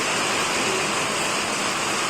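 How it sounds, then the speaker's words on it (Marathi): Heavy rain pours down on farmland in a dense, loud, unbroken hiss that fills the whole moment with no speech. "पाऊस खूप जोरात आलाय"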